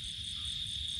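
Crickets chirp on a mountain slope, a thin, high, continuous trill held at an even level over a faint low background, with no voices.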